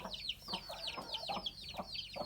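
A protective hen and cockerel clucking near their chicks, with soft repeated clucks and chirpy calls in an uneven rhythm, quiet and close, and no talking.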